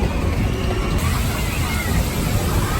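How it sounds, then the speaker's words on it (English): Water splashing and sloshing at a busy water park, with a steady wash of water and a crowd's murmur and voices beneath it, fairly loud and continuous. "Talk about an amazing day to be at the water park."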